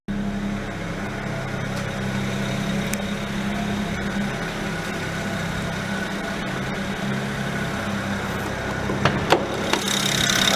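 A BMW 335i engine idling after a water pump and motor mount replacement, a steady, fairly loud low rumble with an even tone. A few faint clicks and ticks come near the end.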